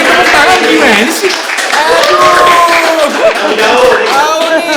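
Scattered audience clapping at a local community gathering in Cilegon, light and brief beneath a loud voice speaking over it.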